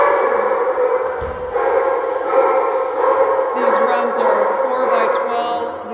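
Many dogs bark and yip together inside a cement-block kennel building with floor-to-ceiling kennels, a loud continuous overlapping clamor that echoes off the walls.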